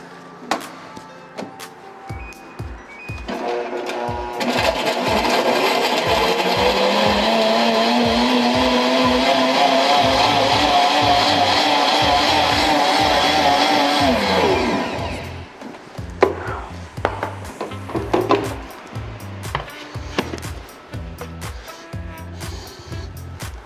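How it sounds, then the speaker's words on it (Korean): A blender motor spins up and whirs loudly and steadily for about ten seconds blending banana, milk and ice, then cuts off, with light knocks and clatter before and after. "이제 믹서만 해주시면 됩니다."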